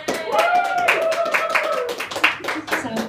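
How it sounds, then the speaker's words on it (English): Clapping breaks out at a book launch for the novel The Cracked Amulet, scattered and moderately loud, with voices and a whistle-like tone sounding over it. "Give her a big round of applause, please."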